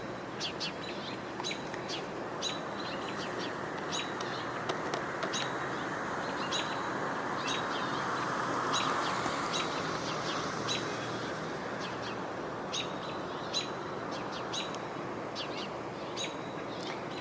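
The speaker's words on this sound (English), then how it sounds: "So you continue to hear, as long as you're hearing, American robins, house finches, and occasionally house sparrows." Outdoors, American robins, house finches and occasional house sparrows sing as repeated short chirps and phrases over a soft, steady background hiss, fairly quiet and distant.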